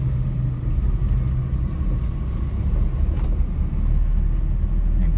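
A 2014 Hyundai Santro Zing petrol-CNG hatchback rolls over a speed breaker, giving a steady low cabin rumble of engine and road noise with faint thumps and no talking.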